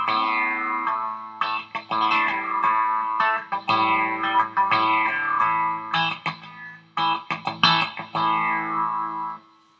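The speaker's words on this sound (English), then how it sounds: "Also does some interesting stuff like, well, what it calls a sitar effect." An electric guitar through a buzzy, droning sitar-effect pedal plays a run of plucked notes with shimmering, resonant sustain, loud and alone.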